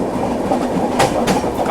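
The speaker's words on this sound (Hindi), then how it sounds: "कामायनी जा रही है यहाँ पे।" The Kamayani Express passing on an Indian railway line makes a loud, steady rumble with clattering wheels and brief sharp clanks, heard from close by.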